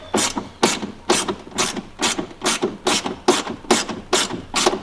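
A hand ratchet works on 11mm bolts of a 2nd Gen Dodge Cummins, loud close clicking bursts repeating about ten times in a steady rhythm, alone without talk.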